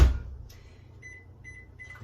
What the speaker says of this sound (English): I'm going to pop it in the microwave for only 10 seconds